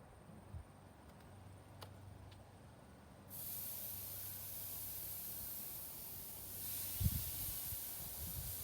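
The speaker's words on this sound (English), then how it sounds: "we're going to get this beef on the grate here" Beef laid on the hot grate of a Kamado Joe grill running about 350 degrees, a steady quiet hiss of sizzle swelling after a few seconds, with faint thumps and no talk.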